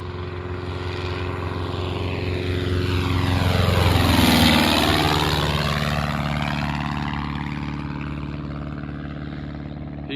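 Zenith CH 650 light airplane taking off at full power, its propeller engine droning loudly as it nears, peaking in a close pass, then a falling Doppler pitch as it climbs away, with no talk.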